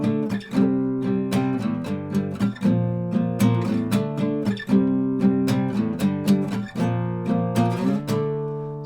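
An acoustic guitar strums the chorus chord progression of a song, a two-bar pattern starting on D and played twice, with bright, close, evenly spaced strokes and no voices.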